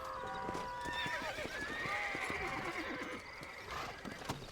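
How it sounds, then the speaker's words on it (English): A horse whinnies loudly while hooves clip-clop in a steady rhythm beneath it in the video game Red Dead Redemption, with no talking. "I don't want to get on this fucking horse"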